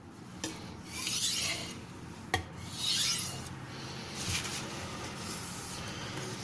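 A blade drawn across a coarse sharpening stone gives repeated close, dry rasping strokes in an uneven rhythm, with a brief sharp scrape partway through and no talking.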